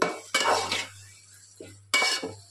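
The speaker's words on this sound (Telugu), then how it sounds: "అడుగంటకుండా కలుపుతూ ఉండాలి అప్పుడప్పుడు." Ivy gourd chutney being stirred in a pan, with a utensil scraping and clinking against the metal in a few short bursts separated by quieter gaps, close by.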